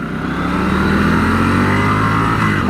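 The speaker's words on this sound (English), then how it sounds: "I actually spun the tire." A 2025 Triumph Scrambler 1200XE motorcycle accelerating hard and spinning its rear tire, a loud close continuous engine roar rising over a few seconds.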